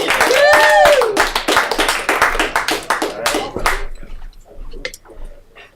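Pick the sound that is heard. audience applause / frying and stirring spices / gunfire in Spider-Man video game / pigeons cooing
audience applause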